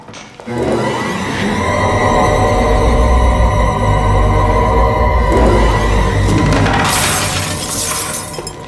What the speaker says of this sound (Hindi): फोटो टूट गई भगवान की।